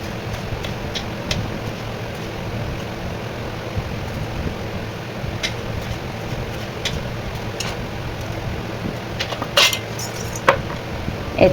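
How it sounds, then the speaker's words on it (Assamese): A knife chops capsicum into small pieces, with scattered sharp taps on a board over a steady background hum, growing denser toward the end. "সৰু সৰুকৈ কেপচিকাম এনেকৈ কাটি লৈছোঁ।"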